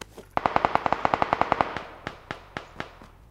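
Rapid pistol gunfire in a video game: a fast burst of about a dozen sharp shots, followed by a handful of slower, spaced shots, moderately loud and without talking.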